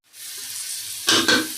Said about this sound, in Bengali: তো এই যে চাল কুমড়ো ভাজা হয়ে যাচ্ছে প্রায়